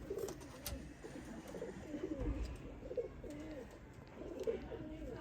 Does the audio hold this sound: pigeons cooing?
yes